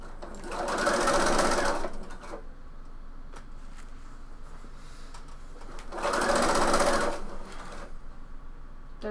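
A 4-thread serger overlock machine sews the side seam of a bomber jacket in two bursts of fast, whirring stitching lasting about a second each, close by, separated by a quiet pause with light handling noise.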